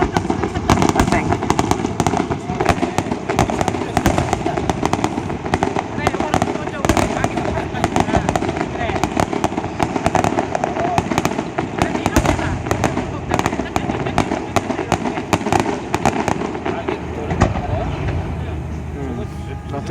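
A Canada Day fireworks finale bursts in a dense, rapid barrage of loud explosions and crackles that continues with little pause for the full twenty seconds, with people's voices under the booms.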